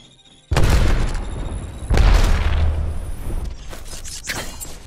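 Grenade explosions in a video game: two heavy, deep booms close together, each with a rumbling tail that lingers before fading under lighter battle noise.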